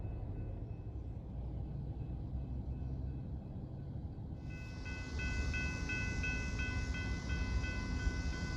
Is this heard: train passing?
yes